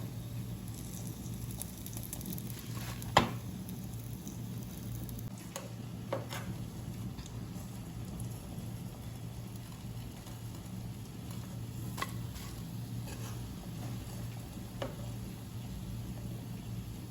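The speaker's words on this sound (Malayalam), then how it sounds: "മുഴുവൻ ചിക്കനും നന്നായിട്ട് ഫ്രൈ ആയി വന്നിട്ടുണ്ട്" Chicken kabab pieces fry in a pan with a steady, soft sizzle throughout, broken by a few brief clicks and taps of a utensil; no one speaks.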